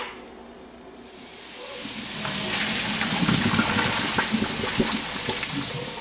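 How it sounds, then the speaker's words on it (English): Bacon sizzling as it browns in an electric skillet set to medium-high, starting quietly and swelling into a steady, crackling hiss with scattered pops. "we're going to start browning this bacon"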